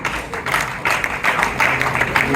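A church congregation applauding during a healing service: close, dense clapping in uneven surges that rises and falls across the stretch.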